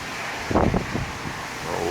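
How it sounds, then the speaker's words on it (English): Hurricane Dorian winds roar outdoors in Halifax, Nova Scotia. Steady broadband rushing swells into a brief, louder gust buffeting the microphone, then settles back to a continuous blow. "the wind's going to pick up a bit now for the next couple hours"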